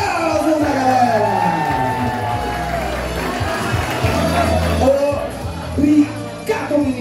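Outdoors at the award ceremony of a running race in Artur Nogueira, a crowd claps and cheers in a busy, sustained wash of sound with whoops on top, while amplified speech plays over it.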